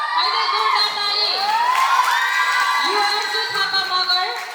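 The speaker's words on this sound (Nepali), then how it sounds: "जोरदार तालीले उहाँहरूलाई स्वागत गरौँ" An audience at a dance school anniversary program cheers and whoops loudly in a sustained wave, with high shouting voices on top of a crowd roar.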